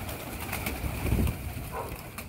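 Low, soft pigeon cooing, brief and muffled, set against steady outdoor background noise.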